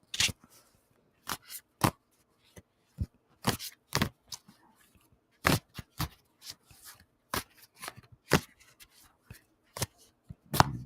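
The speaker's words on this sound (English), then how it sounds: "I'm going to shuffle the money card deck." A tarot card deck is shuffled in a series of brisk, crisp riffles and snaps at irregular intervals, close and clear, with quiet pauses between bursts.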